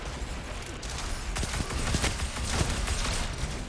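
The Vex Mythoclast, an exotic weapon in Destiny, firing a quick burst of sharp shots that grows louder partway through, with no talk over it.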